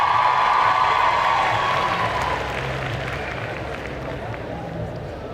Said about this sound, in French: On applaudit bien fort le groupe La Cour de Récré.